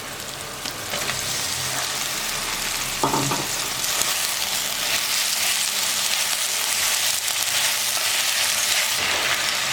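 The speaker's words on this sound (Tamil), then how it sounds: "மட்டனில் நல்லா உப்பு காரம் மசாலா இறங்கிறதுக்காக நல்லா ஒரு நிமிஷம் நல்லா வறுக்கலாம்" Cooked mutton fried with masala in a pan, a loud, continuous hiss of sizzling oil with occasional clinks and scraping as it is stirred, close up and without talk.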